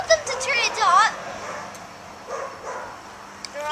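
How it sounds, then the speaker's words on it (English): Small dogs yip and whimper beside an outdoor propane fire pit, giving a few high, bent cries early on and fainter yelps later, mixed with a voice speaking nearby. "Watch out for your dogs there, Sarah Lynn."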